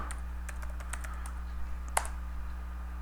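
A computer keyboard clatters as a file name is typed in SolidWorks, quick light keystrokes in a short run followed by one sharper click, all over a steady low electrical hum, with no talking.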